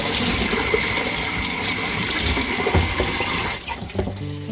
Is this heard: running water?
yes